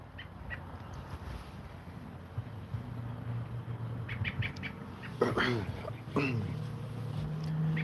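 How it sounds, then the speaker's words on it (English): A bird calls several times in the middle distance over steady outdoor campground background noise at night and a low motorbike engine hum, with faint voices nearby. "I got a bird that won't shut up either."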